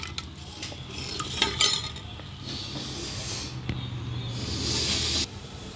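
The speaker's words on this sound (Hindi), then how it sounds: "अब मैं ये प्याज इसके अंदर ऐड कर रही हूँ। और प्याज को हम तब तक भूनेंगे जब तक कि वो गोल्डन ब्राउन ना हो जाए।" Chopped onions fry in garlic-flavoured oil in a pan, giving a soft, steady hiss broken by scraping and clinking as a utensil stirs them, with no voice over the cooking.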